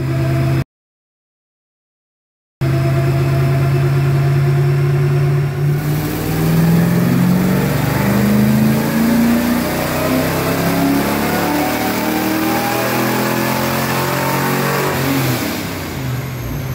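A small-block Chevy 355 V8 on a dyno, built for over 400 hp on pump gas, roars through a long rising rev after a short dropout near the start, holding loud and close before easing off at the end.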